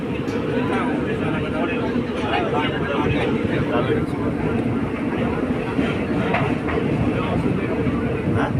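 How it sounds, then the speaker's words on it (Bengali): The Shalimar–Thiruvananthapuram superfast express, train 22642, runs at speed near Vijayawada by the Krishna River and Prakasam Barrage, producing a loud, continuous rolling rumble with rattling wheel noise and no breaks. "ট্রেনটি এখন সাউথ ইন্ডিয়াতে অবস্থিত বিজয়বাড়া শহরের উপর থেকে ঝড়ের গতি নিয়ে গিয়ে চলছে"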